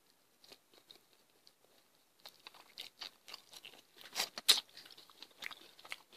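Someone bites into Wingstop Spicy Korean Q chicken wings, giving close, crisp crunches and wet chewing in short irregular bursts that grow louder and busier, with a few quiet bites early on.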